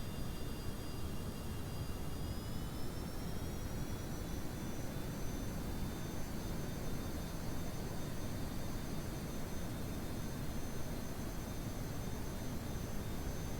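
Steady, continuous roar of a plane's jet engine in flight in Kerbal Space Program, broadband and unchanging throughout with a faint high whine on top, no voices.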